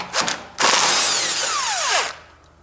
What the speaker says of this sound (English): I use my electric driver